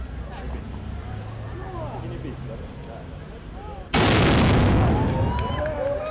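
A Cossack ceremonial salute goes off as one sudden, very loud gun blast that rings out over a murmuring outdoor crowd, with voices heard before it.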